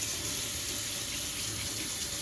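Tap water running steadily into a sink to rinse off veterinary lab equipment used for a stool sample, a close, continuous splashing gush.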